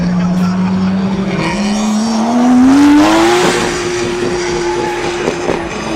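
Underpowered Toyota Corolla drift car sliding sideways around the track at a drift final, its engine tone climbing steadily as it revs, with tire squeal layered over the close, loud run.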